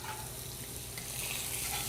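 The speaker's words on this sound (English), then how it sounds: "add that to the pan, and then just let that sear." Tofu seasoned with sweet curry spice and salt sears in a hot pan, giving a continuous close sizzle and hiss at moderate level with no voices.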